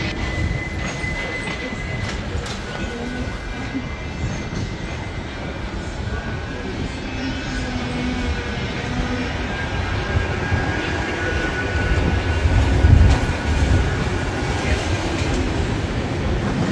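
A Manchester Metrolink tram rides between stops after Deansgate-Castlefield, a steady low rumble and rolling wheel noise with a faint hum, swelling slightly near the end.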